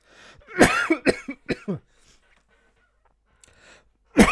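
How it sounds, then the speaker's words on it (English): A short run of several close, sharp coughs during a live stream, followed by a long quiet pause and one more cough at the end. "Oh dear, and I'm coughing now"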